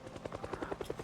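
A helicopter flies overhead in Project Zomboid, its rotor chopping in a fast, even rhythm of about ten beats per second, fairly faint and alone.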